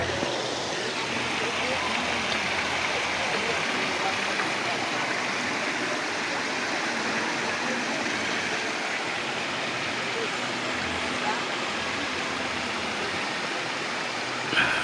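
Mountain stream on Mount Banahaw in Quezon Province, water rushing in a steady broad hiss, close and continuous, with people faintly talking under it.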